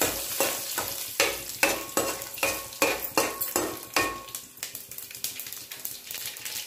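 Mustard seeds, cumin and broken dried red chillies sizzling in hot oil in a pan, with steady crackling and a regular series of stirring or scraping strokes, close and clear, without speech.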